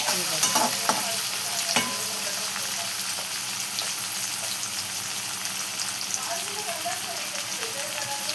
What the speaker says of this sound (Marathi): आणि सगळ्याच आपण परतून घेऊया